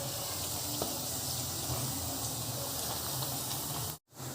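Round potato slices fry in a pan with a steady, close sizzling hiss that holds evenly before cutting off abruptly near the end.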